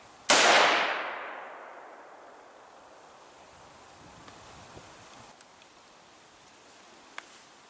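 One sharp, loud outdoor gunshot from target shooting cracks close by and echoes away over several seconds, followed by quiet open-air ambience with a few faint distant clicks.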